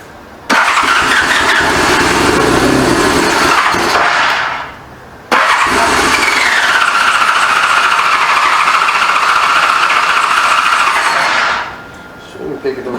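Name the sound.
1985 Honda Goldwing GL1200 motorcycle engine first start after carburetor rebuild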